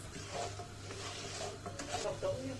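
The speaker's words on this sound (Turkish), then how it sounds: "Arpa şehriyelerimiz rengini değiştirene kadar kavuracağız." Orzo-shaped vermicelli being toasted in oil in a pan for rice pilaf gives a soft, steady sizzle with faint stirring scrapes, close and continuous with no talking.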